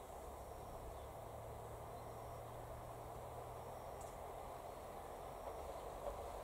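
A train far off at a rural rail siding, a steady low rumble with faint broadband hiss that stays constant and distant throughout, with no voices.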